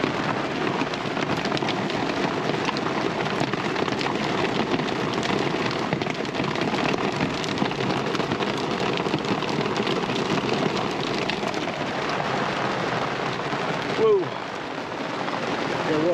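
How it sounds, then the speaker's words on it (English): Heavy monsoon rain and small hail drumming nonstop on a car, a dense, loud wash of pelting impacts that fills the whole stretch, with a brief startled exclamation near the end. "Wow, it looks like it's even starting to hail. I can see some little hail bouncing off the car."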